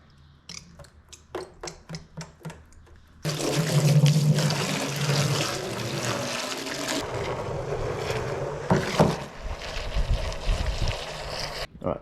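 Water gushes steadily into a tub for soaking a donkey skull for a European mount, a loud continuous rushing and splashing that begins abruptly after a few light knocks and runs to the end.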